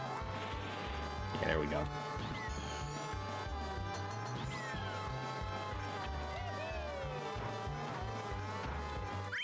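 Karts drift and skid in Mario Kart 64, with tyre squeals sweeping up and down over a buzzing, looping engine drone and game music, while a player talks briefly over the racing.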